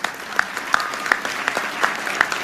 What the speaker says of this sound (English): Certainly deserving of your applause.